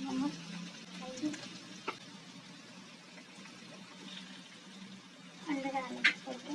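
Onion, tomato and green chili frying in oil for an egg bhujia, a steady soft sizzle with a few stirring scrapes and clinks, louder near the end.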